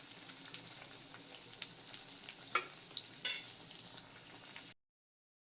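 Rice flour snack cakes fry in oil with a soft, even sizzle, broken by a few sharp clinks of a utensil against the pan before the sound abruptly stops; no talking.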